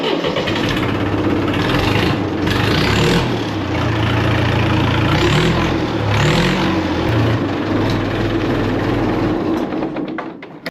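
An old farm tractor engine cranks, catches on the first try and settles into a loud, steady mid-pitched idle with a few small rises in revs, running alone and close by throughout.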